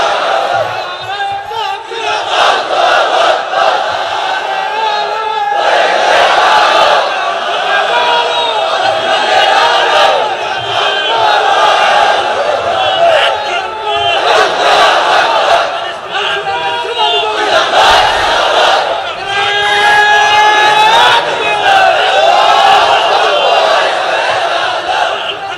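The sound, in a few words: crowd chanting the takbir in response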